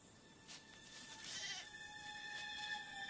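A goat bleats in short, wavering cries over a steady background hum, with no talking.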